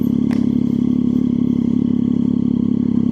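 Motorcycle engine running steadily while riding on a cool evening road, a continuous loud low drone with no clear revving, close and alone.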